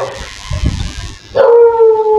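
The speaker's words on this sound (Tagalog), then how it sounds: "Aso." A dog howls nearby in a flooded area, a loud drawn-out wavering cry rising after a few softer rustling sounds.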